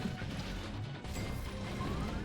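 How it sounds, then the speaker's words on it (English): Bikes get smashed in the video game Pizza Titan Ultra, with heavy crashing impacts over a constant engine-like rumble and game noise. "Just smash the nearby bikes."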